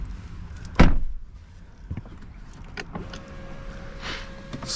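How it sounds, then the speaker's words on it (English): A 2024 BMW i5 M60's automatic steering wheel adjustment motor hums steadily inside the cabin, preceded by a sharp click or thump and a few soft interior clunks. "We have an automatic steering wheel adjustment."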